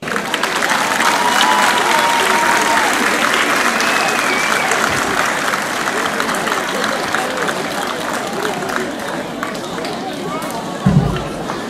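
Sustained applause from a crowd at a Santo António festival parade of popular marches, steady and fairly loud throughout, with a brief louder burst near the end.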